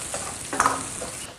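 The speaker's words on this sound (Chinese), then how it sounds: "猪肉炒香过后，下入姜葱蒜" Pork stir-frying in oil in a wok, with ginger, scallion and garlic added, a steady bright sizzle with a brief louder burst of frying and stirring partway through, close and alone.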